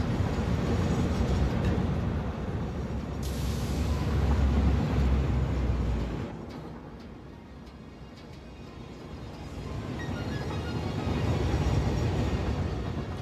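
Train in the video game Satisfactory riding along rails, a steady low rumbling roll that swells and fades over the stretch, with a brief quieter dip midway before the heavy drone returns.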